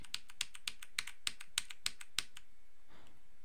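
Rapid keystrokes on a computer keyboard during an online Star Wars roleplay game session, about a dozen crisp clicks in a steady run, close and clear, then stopping.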